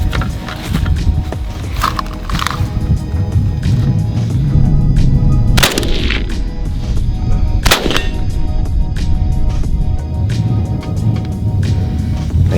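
AK-47 rifle shots fired from an unsupported kneeling position at 50 meters: two loud sharp cracks stand out against steady outdoor background noise, spaced a couple of seconds apart, with smaller impacts earlier.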